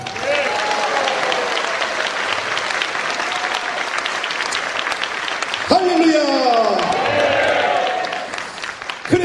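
Loud, sustained audience applause fills a church hall during a Christian leaders' forum worship service, a steady clatter of many hands that swells near the end while a voice speaks over it.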